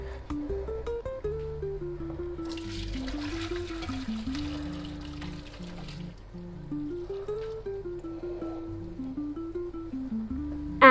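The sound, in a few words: draining pasta water through a sieve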